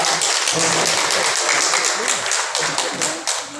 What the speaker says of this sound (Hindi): एक बार जोर से जोरदार ताली से इनका।